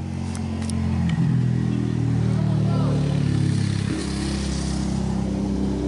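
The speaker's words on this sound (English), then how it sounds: "Riding a four-wheeler down the road." A four-wheeler ATV rides along a road, its engine a steady, loud, droning rumble that holds for several seconds with a slight shift in pitch as it passes, heard alone and without a break.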